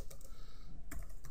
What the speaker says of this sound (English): hit the tab key on the keyboard